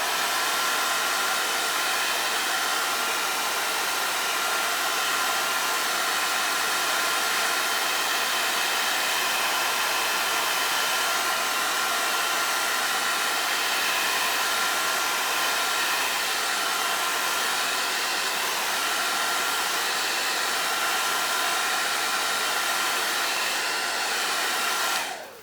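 Hair dryer blows steadily to dry alcohol inks on vellum, a loud constant whirring rush of air held for the whole span before cutting off at the end, without speech.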